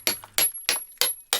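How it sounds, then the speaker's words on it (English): Small chisel struck with a hammer on granite bedrock, five sharp metallic strikes in an even rhythm about a third of a second apart, close and alone. "First method, a small chisel and hammer."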